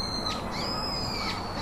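A bird calls twice near the Morgan Sicao River in Norzagaray, two sharp high chirps standing out over a steady hiss of flowing water.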